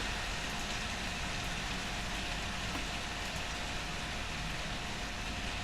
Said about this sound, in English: It's really hammering it down